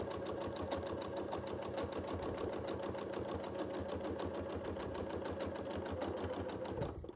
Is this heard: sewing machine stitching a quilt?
yes